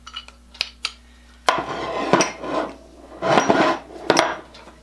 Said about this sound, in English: I took a carriage bolt and ground off the edge so that it would slip in there